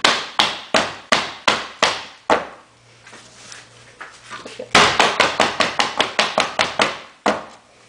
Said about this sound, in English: I'm going to go ahead and tap this down